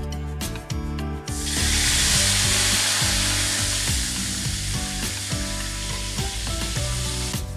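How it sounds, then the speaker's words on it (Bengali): Water poured into a pan of fried nigella seed tempering for a hilsa fish curry erupts into a loud, steady hiss and sizzle, with a tonal background hum running underneath throughout. "এবার আমি পরিমাণ মতো ঝোলের জন্য জল দিয়ে নেব"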